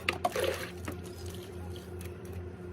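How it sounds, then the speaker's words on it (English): Water goes into a bucket of drywall setting compound, with a short splashy pour and trickle at the start fading into quiet dribbling and a low background hum. "Just enough water in it, maybe a sponge full, and you mix it up, mix up the materials."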